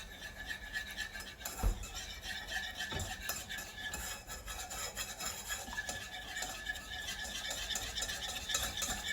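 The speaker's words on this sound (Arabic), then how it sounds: "غادي نزيدهم على الزيت وغادي نبدا نحرك." Continuous scraping and stirring of flour into oil in a pan, a utensil rasping steadily against the bottom with a faint sizzle underneath, plus a couple of sharp knocks.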